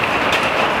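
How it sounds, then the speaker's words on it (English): Heavy rain pours outside a closed garage, a brief dense wash of steady patter that fills the space evenly. "it's pouring down rain outside"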